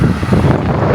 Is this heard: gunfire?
no